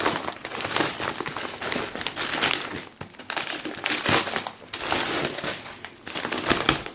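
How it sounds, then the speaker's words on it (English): Internal packaging being cut open while unboxing a PineBook64 laptop, heard as continuous close crinkling and crackling rustles in several surges over about seven seconds, with no talking. "I'm gonna cut the internal packaging."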